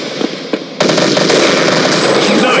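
A loud, sharp sniper rifle shot in the mobile war game Sniper Elite hits at once after a quieter opening, its crack followed by a dense, sustained rumble and rattle with no talk.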